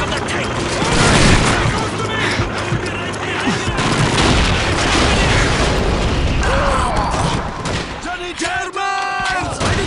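Explosions and gunfire in the Call of Duty 2 tank battle, dense booms and bursts rolling over continuous loud combat noise, with raised voices and chirping whistle-like sounds near the end.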